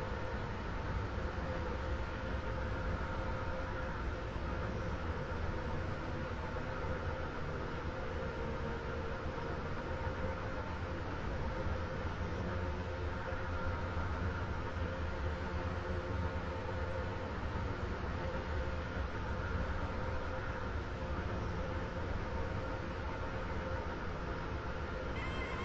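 Continuous steady rumble of an Airlink train running in the Roblox game, a dense broadband roar holding level for the whole stretch with no talk over it.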